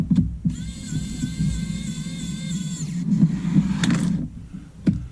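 A rechargeable 28-in-1 precision electric screwdriver whirs steadily at close range for a couple of seconds, a thin high motor whine, then stops, surrounded by small clicks and handling knocks.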